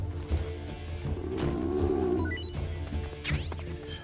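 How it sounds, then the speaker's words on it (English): In Metal Gear Solid, Snake's stomach growls: a low, warbling rumble that swells and wavers for a couple of seconds in the middle, over a steady game background with a few clicks and chirps around it. "that noise was Snake's stomach growling."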